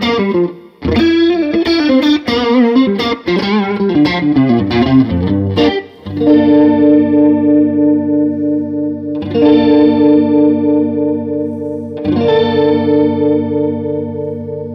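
Electric guitar runs through a Boss Waza Craft CE-2w chorus pedal, with a quick run of picked notes giving way to sustained, shimmering chords that ring out, swell and restrike at intervals, loud and close with no talking.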